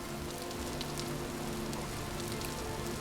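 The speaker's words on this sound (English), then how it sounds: "It's also raining right now" Rain in the survival video game Vintage Story: a soft, even patter of drops falling steadily on surfaces, fairly quiet and continuous with no talking.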